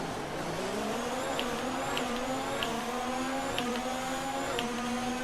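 Several F1 car engines revving and droning together in F1 2019, pitches rising as the cars launch from the start at Bahrain, with a few sharp squeals.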